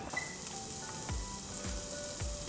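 Slices sizzle and fry in a hot pan, a continuous crackling hiss with several low thumps and clatters spaced about half a second apart, close and fairly loud with no talking.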